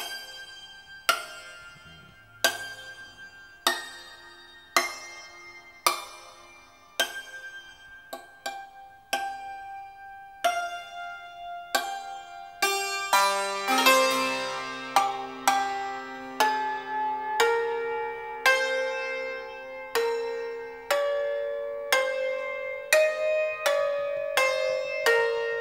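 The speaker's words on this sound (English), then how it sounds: "This is the fastest tempo that I can play flageolets and the lower strings" A santur rings out flageolet harmonics struck near the bridges, bright plucked notes decaying one after another at first, then speeding into a denser, faster run with lower strings sounding, alone and fairly quiet.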